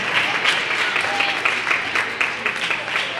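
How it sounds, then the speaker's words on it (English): Audience applause after an introduction at a speaking event: a dense, continuous patter of many hands clapping, fairly loud and close, with a faint voice underneath. "let's give him a round of applause."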